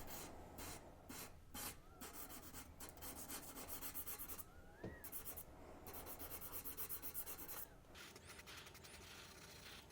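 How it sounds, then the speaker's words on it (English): Cork block wrapped in 220 grit sandpaper rubbing back and forth over a violin fingerboard, a steady close rasping scrub that continues throughout with short pauses between strokes. "finish removing any leftover cross scratches with a small piece of cork and 220 grit sandpaper"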